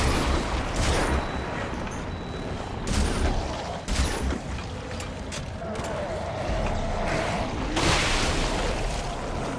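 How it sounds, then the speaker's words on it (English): A violent explosion in the sci-fi horror game Dead Space 2, heard as a chaotic run of loud blasts, cracks and heavy impacts over dense, noisy combat clatter. "Glorious explosion."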